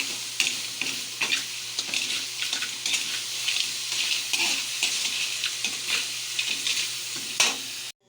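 Crablets and garlic flakes sizzling in a pan as a spoon stirs them, scraping strokes recurring about every half second over a continuous frying hiss, close and moderately loud, no voices.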